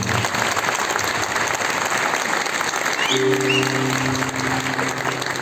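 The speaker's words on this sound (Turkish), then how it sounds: "çok büyük bir alkış istiyorum" Sustained applause from the audience at the Erbaa Altın Yaprak singing contest in Niksar, a steady dense wash of clapping throughout, with a low held musical tone entering partway through.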